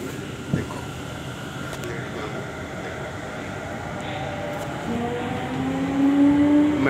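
Steady rumble and hum inside a nearly empty Delhi Metro train riding between Anand Vihar and Krishna Nagar, a continuous rolling drone that swells slightly toward the end, with a rising whine appearing late.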